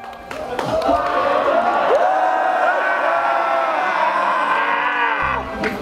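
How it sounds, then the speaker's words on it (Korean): Special forces trainees on a short break from military training let out a loud collective shout and cheer, many voices yelling together in a sustained roar that holds for several seconds before cutting off. "작은 위로에 커다란 함성으로 보답하는 교육생들."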